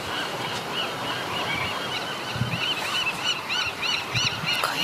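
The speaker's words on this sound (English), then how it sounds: "What's that? What's the bird?" Birds call outdoors on Alcatraz island, giving a series of short, repeated honking cries that grow busier toward the end over a constant wash of surf-like background noise.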